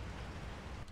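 Rain falls in the video game Resident Evil 4, a very faint, steady hiss of downpour with no other sounds.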